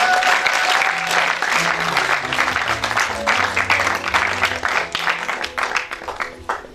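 A congregation at a wedding ceremony breaks into dense, sustained applause that fills the whole stretch, with a low tonal undertone beneath, before thinning out slightly toward the end.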